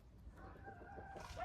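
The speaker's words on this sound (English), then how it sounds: "Roosters, barking dogs." A rooster crows once in the distance in Albania, a faint drawn-out call over low background noise.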